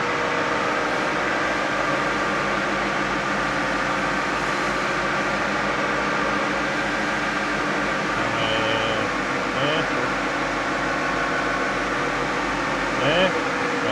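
A tuned diesel engine runs on a dyno with the throttle opened, a loud, steady mechanical drone filling the space, with a few brief higher tones toward the end.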